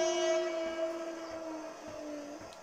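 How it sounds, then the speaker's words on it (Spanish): A go-kart horn in GTA Online sounds as a steady two-tone honk, held for over two seconds at moderate level, with faint engine noise underneath. "¿Desde cuándo un kart tiene claxon?"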